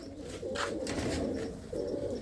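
Show pigeons kept by a Punjabi fancier coo continuously and close up, a soft rolling drone that pauses briefly and resumes, with no talking.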